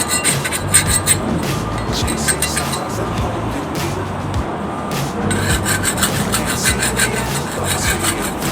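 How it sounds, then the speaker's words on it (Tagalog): Old flaking paint being scraped off a balcony of an aging house, a continuous harsh rasping and rubbing that runs steadily and close up with brief pauses. "Kuskusin natin yung mga natuklap na pintura."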